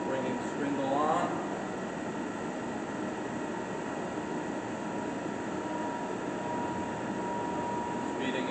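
A Monarch 10EE precision toolroom lathe runs its spindle in back gear, giving a steady, close, broadband whir and hiss that holds at an even level throughout.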